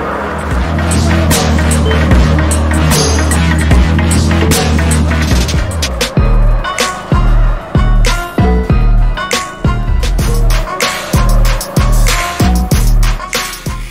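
A car drifts in a mobile driving game, a loud sustained engine roar with tire squeal giving way to rhythmic bursts of revving and skidding, steady and close throughout with no talk.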